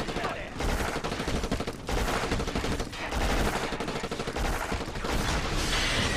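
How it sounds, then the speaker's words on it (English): Rapid submachine-gun fire from an SMG used for long-range sniping in the shooter Black, sustained loud automatic bursts with short gaps between them, close and dense, with no speech over it. "Who says you can't snipe with an SMG?"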